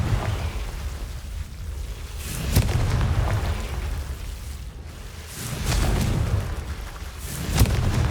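Fiery Confringo spell blasts in the Hogwarts Legacy video game, several deep booming bursts around 2.5, 5.5 and 7.5 seconds over a steady rumbling, rain-like wash of game ambience, with no talking.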